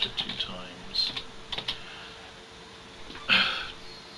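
Keys tapped on a computer keyboard while searching for a font, a few quick bursts of clicks with pauses between them and a louder cluster near the end, close and clear.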